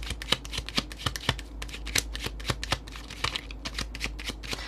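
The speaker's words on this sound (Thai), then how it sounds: "แม่หมอกำลังจะมาเปิดไพ่ความสัมพันธ์อีกสำหรับหนึ่งให้คุณนะคะ" Tarot cards are shuffled by hand for a love and relationship reading, giving steady, rapid riffling snaps and soft card slaps close by, with no talking.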